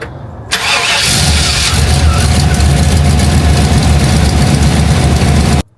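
A GMC 3500 pickup truck with a straight-pipe exhaust cranks and catches, then settles into a loud, steady low rumble of idling that runs until it cuts off abruptly.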